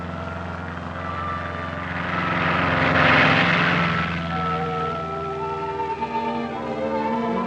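A propeller airplane drones overhead, its engine hum swelling as it passes close and then easing off into a steady distant buzz.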